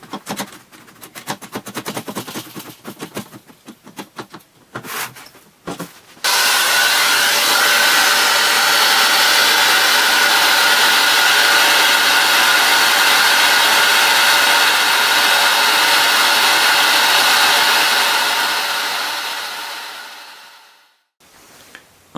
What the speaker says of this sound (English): It does get pretty noisy with the narrower nozzle on.